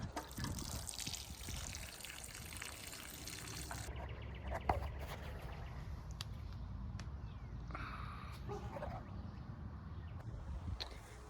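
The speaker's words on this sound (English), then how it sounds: "Can't forget to water it in." Water poured from a can onto a newly planted, formerly root-bound coleus in a garden, a steady close trickle and splash running throughout with a brief knock partway.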